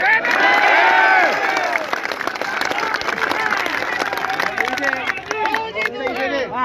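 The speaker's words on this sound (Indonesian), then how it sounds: "Tepuk tangan untuk PBB" Crowd applauding and cheering at a Pemuda Batak Bersatu gathering outside the Cikarang-Bekasi police station, a loud, dense clatter of clapping mixed with shouts and babbling voices that continues steadily, easing slightly toward the end.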